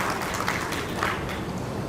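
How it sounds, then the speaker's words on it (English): A summit audience claps to welcome a speaker at a youth mental wellbeing event, a steady wash of hand claps at even loudness with no talking. "Can we hear a huge round of applause?"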